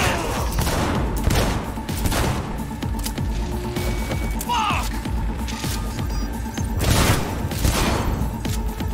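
Gunfire in the video game Cyberpunk 2077, with a few sharp bursts of shots rising over a steady, busy game soundscape with music and effects, the loudest bursts near the start and toward the end.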